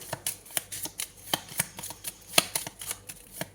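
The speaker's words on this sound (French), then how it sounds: "Allez, je prends une troisième carte." Tarot cards rustle and snap as a deck is handled and a card drawn, a rapid run of crisp close flicks of varying loudness.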